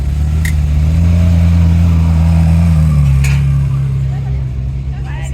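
A Ferrari 458 engine rumbles loudly close by and its pitch rises and falls steadily as it passes at a car rally gathering, with crowd noise in the background.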